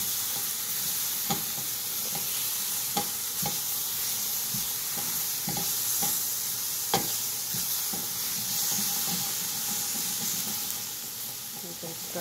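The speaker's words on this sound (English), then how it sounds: "keep stirring it" Sweet and sour eggplant (khatta meetha baingan) cooking over a low flame, stirred in a pan: a continuous soft sizzle with repeated light scraping taps of the spoon at an uneven rhythm, close up and without talk.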